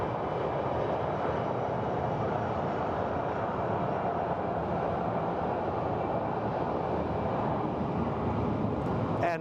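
A JSX airplane taking off at Sky Harbor Airport gives a steady, broad engine roar that holds at constant loudness for several seconds, heard from a distance without talk.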